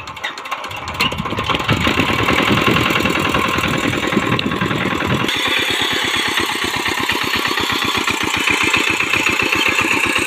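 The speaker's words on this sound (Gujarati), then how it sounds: "પાવર ટીલર નામ અને 5 હોર્સપાવરનું એન્જિન છે." A 5 horsepower power tiller engine starts and runs with a loud, rapid, steady chugging beat, close by and continuing without talk.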